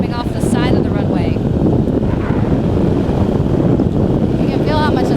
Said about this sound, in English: these winds are coming pretty much right off the ocean, straight out of the north